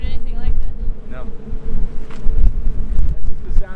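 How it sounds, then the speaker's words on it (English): Strong wind gusts roaring through narrow canyons in Bolivia, a loud rumbling buffeting on the microphone that swells and eases in waves, with brief voices underneath. "I don't know if you guys will be able to hear the sound of the wind through all of these"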